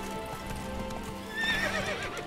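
Geralt's horse Roach in The Witcher 3 clip-clops steadily at a walk, then gives a clear whinny near the end, with game ambience underneath.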